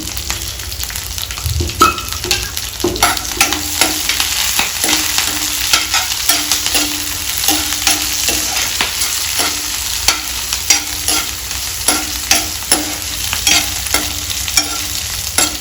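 Green chillies and curry leaves fry in hot oil in a pan, a steady broadband sizzle with frequent sharp crackles and pops and the occasional scrape of stirring, close and fairly loud throughout.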